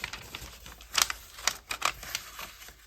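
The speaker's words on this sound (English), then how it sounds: "So we fold it the long way, and then we unfold it, and then we fold it again" Paper pages being folded for a mini summer coloring book, soft crisp creases and rustles in several quick, close, faint bursts.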